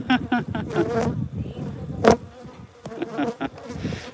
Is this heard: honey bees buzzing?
yes